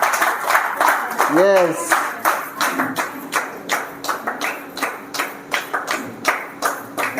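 An audience claps for a guest coming on stage, steady rhythmic clapping from a crowd throughout, with a presenter speaking over it early on.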